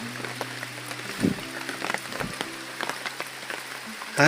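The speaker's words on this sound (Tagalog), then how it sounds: "Lumakas ang ulan." Steady rain patters on a surface in quiet countryside farmland, with scattered drips and splashes, over a low continuous hum.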